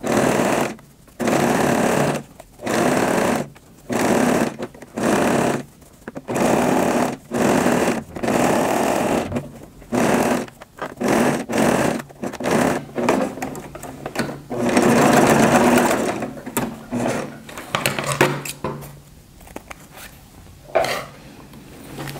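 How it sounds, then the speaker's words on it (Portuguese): A sewing machine set to a long, loose stitch sews a fabric bag, whirring in repeated short runs separated by brief pauses, close and clear. "Eu tô colocando minha máquina no número 5."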